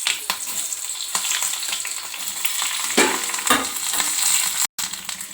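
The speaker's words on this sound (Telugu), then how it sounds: "ఇప్పుడు ఇదే నూనెలకు ఒక 3 పచ్చిమిర్చి తుంచుకొని వేసుకుందాం." Green chilies fry in hot oil with a loud, steady sizzle, broken by scraping stirs and a brief silent gap near the end.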